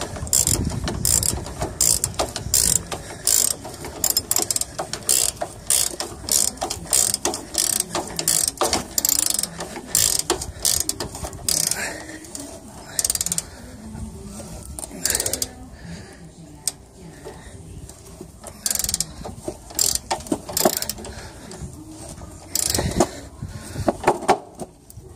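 A wrench ratcheting while tightening bolts on the upper control arm of a 1999 Ford Expedition: rapid, repeated metallic clicks in bursts with short pauses, close up and fairly loud.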